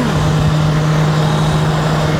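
A Honda 500X motorcycle riding on a road, a steady engine drone with a constant low hum and wind roar throughout, close and loud, no talking.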